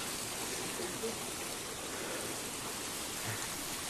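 A small mountain stream flows steadily nearby, its continuous broadband rushing and babbling water sound unbroken for the whole stretch, with no distinct voices over it.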